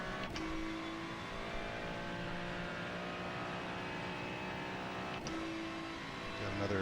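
A turbocharged GT race car engine drones steadily at a near-constant pitch in a Nürburgring 24 hours racing game, with brief sharp transients at the start and around the five-second mark, suggesting gear shifts.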